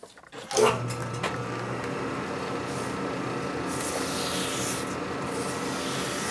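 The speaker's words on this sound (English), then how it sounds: "Just use sandpaper on there. Sand a little bit." Sandpaper rubbed over the kicker ratchet plate of a 1957-70 Harley Ironhead XL, a steady close scratchy rasp running continuously after a brief knock at the start.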